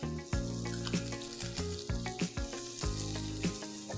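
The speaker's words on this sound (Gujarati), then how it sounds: "મેક્સિકન રેસીપી હોય ને તો એમાં લસણનો જે ટેસ્ટ હોય છે ને એ બહુ જ સરસ આવતો હોય છે. આપણે એને સાંતળી લઈશું." Garlic sautés in a pan for a Mexican cheesy vegetable quesadilla, a steady close sizzle with frequent light clinks and scrapes of a spoon against the pan.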